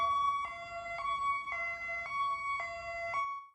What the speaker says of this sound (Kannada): ಹೈ ಲೋ ಎಂಬ ಸೈರನ್ ಶಬ್ದವನ್ನ ಕೇವಲ ರೋಗಿಗಳ ಅಂಗಾಂಗಗಳ ವರ್ಗಾವಣೆಗಾಗಿ ಅಥವಾ ತುರ್ತು ಶಸ್ತ್ರಚಿಕಿತ್ಸೆಯ ರೋಗಿಗಳನ್ನ ಕರೆದೊಯ್ಯುವಾಗ ಮಾತ್ರ ಬಳಸಲಾಗುತ್ತೆ